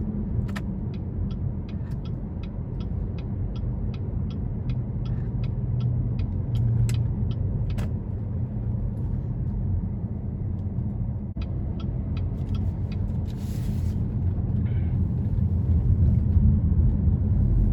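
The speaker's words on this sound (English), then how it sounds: "Gonna give it a little throttle here. So great pickup." A 2016 Chevrolet Malibu Premier with a 2.0-liter turbo engine pulls under light throttle, a steady low drone with road rumble that swells a little toward the end, heard from the cabin with faint ticking on top.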